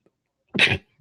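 A single short, sharp sneeze bursts out close by, brief and forceful, then silence.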